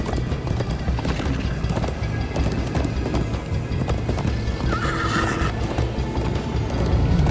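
Horse hooves clip-clopping at a gallop with a neigh in the Minecraft game, a steady rhythmic pounding throughout over a dense game soundtrack, with a brief tonal whinny near the middle.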